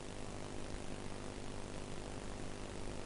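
Indian Air Force military helicopters fly at night over Ladakh, a steady, dense engine roar with no break or voices.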